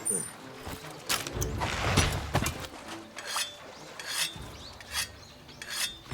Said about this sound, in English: Let me sharpen my chainsaw with just a rock rubbing against the side.